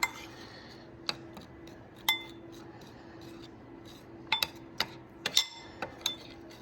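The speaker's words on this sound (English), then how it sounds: "so I'm gonna slurry this up. Try to mix this up as good as I can" Old and new yogurt being stirred together into a slurry in a container, heard as sparse, sharp spoon clinks and taps against the side, single hits and quick clusters over a faint steady hum.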